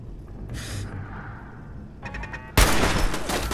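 A gunshot in the video game Fallout 4 cracks loud and broadband near the end, preceded by quieter game noises and a short burst of metallic clatter against a steady low background.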